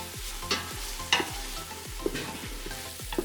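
White onions and minced garlic sauté in an Instant Pot, a steady sizzle with repeated scraping stirs spaced about every half second to second, close and moderately loud, no voices.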